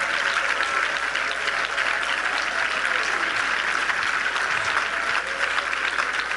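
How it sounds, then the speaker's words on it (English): A church congregation claps in praise: dense, steady applause from many hands that holds at an even level throughout, with no voices rising above it. "Clap your hands to the Lord in praise right now."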